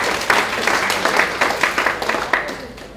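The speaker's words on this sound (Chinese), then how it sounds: "让我们掌声欢迎阿月" Audience applause welcomes a speaker to the stage at a game developers' conference. The clapping is loud, continuous and crowd-wide, with a few sharp individual claps standing out.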